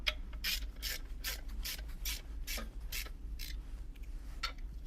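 A ratchet wrench turns in short bursts while the flywheel bolts on a Volvo 940 Turbo drift car are tightened in stages, making faint, rhythmic rasping clicks over a low steady hum, with no talking.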